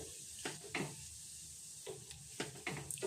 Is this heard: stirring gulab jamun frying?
yes